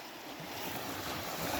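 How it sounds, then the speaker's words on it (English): A river runs strongly nearby in an outdoor wooded setting, a steady broadband rush of water with some wind noise, continuous and fairly loud, with no talking. "River's running pretty good"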